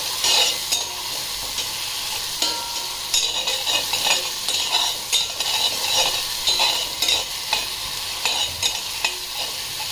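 Ground spices sizzle and fry in oil in a pan for a tomato saar, with a constant hiss broken by repeated stirring scrapes and clinks of a spoon, close and loud.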